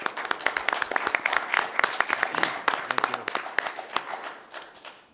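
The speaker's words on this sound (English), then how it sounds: "I think we all should give a round of applause to them" At a Lakeville city council candidate forum, the audience gives the candidates a round of applause, moderately loud and crisp with distinct claps, fading over the last second.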